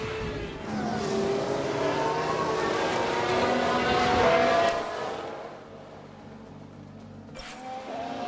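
Formula 1 cars in F1 Manager 2022 scream past in a race, high-pitched engines whining loud for several seconds before fading into a quieter, distant hum.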